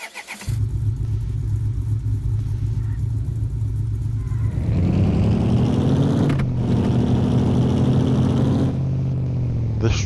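A truck engine from the OffRoad Outlaws video game rumbles at idle, then climbs in pitch as it revs hard through a gear. After a brief cut it revs up again, loud and close.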